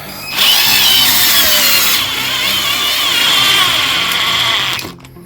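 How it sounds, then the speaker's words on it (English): A power drill drives a screw through 3/4-inch drywall into a wall stud, its motor whining loudly and steadily for about four and a half seconds with a slight dip in pitch midway before stopping abruptly. "And now we're ready to sink the screw in."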